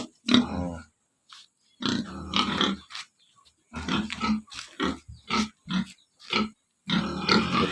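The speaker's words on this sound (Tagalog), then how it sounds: "Dagito iti baboy ko." Pigs on a fattening farm in Cagayan grunt in short bursts, some deep and some squealing, with silent gaps between them, close to the listener.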